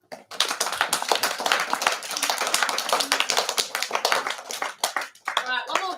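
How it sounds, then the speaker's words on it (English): Audience at a primary school awards assembly claps in a dense, close burst of hand claps for several seconds, then tapers off with scattered claps as a voice speaks. "one more big clap, please"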